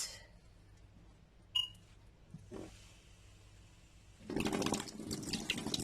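Onions rinsed under a running kitchen tap, a faint trickle giving way to a steady splashing gush of water in the last couple of seconds, heard alone without talk.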